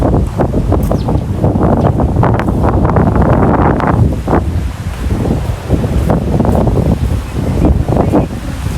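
Steady wind buffeting the microphone mixed with the wash of sea waves, loud and continuous throughout, with no voices.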